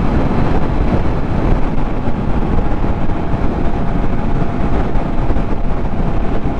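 Heavy, continuous wind buffeting a helmet microphone roars low and steady while a Triumph Trident 660 motorcycle cruises along a highway, with no speech over the rumble.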